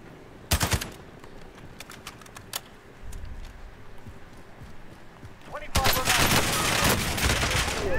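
Gunfire in a first-person shooter, a sharp loud burst near the start, scattered single shots, then a sustained rapid barrage at the end, with talking in between.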